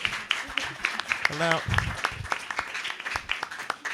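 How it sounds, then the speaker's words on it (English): Audience applause in a room at a student election debate for the Athletics Union Officer post, scattered claps running under a brief spoken announcement over a PA. "Give them another round of applause because I demand it."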